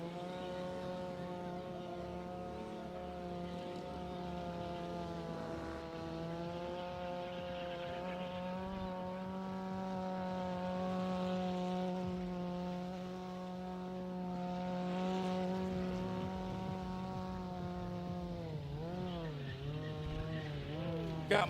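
Engines drone steadily at a drift and stunt show as a drift trike and a Honda Grom circle, a sustained buzzing whine heard at a distance with a few changes in pitch.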